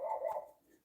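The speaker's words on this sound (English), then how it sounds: "My dog's barking." A pet dog barking indoors during a live stream of a miniature lunchbox build, a single short muffled bark, faint and somewhat distant.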